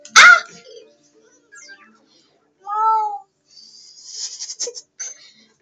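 A person's voice imitates a cat's meow. One drawn-out mewing cry stands out between breathy puffs and soft mouth noises, close to the microphone, with no talking.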